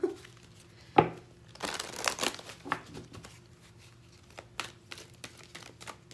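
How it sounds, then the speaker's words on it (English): Large chakra cards are shuffled by hand, producing soft, irregular rustling, flicking and crinkling bursts with a sharper snap near the start, fairly quiet and close, with no talking. "These cards are hard to shuffle because they're so large."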